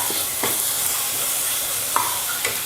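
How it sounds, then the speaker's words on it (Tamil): Masala for a non-veg curry sizzles and hisses steadily in a pan, with a few scattered scrapes of a spoon stirring it, close and fairly loud. "மசாலாலாம் சேர்த்து நல்லா வதக்கிக்கிட்டேன்"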